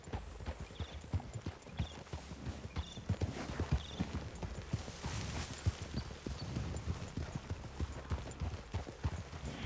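Steady clip-clop of several horses' hooves walking over ground in Red Dead Redemption 2, continuous and fairly close, with a faint whinny in the background.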